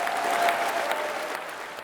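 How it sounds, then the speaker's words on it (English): Rapturous applause fills a Labour Party conference hall, a dense, even wash of clapping from a large crowd, loud and sustained for the whole short stretch. "Angela Rayner opened the conference to rapturous applause"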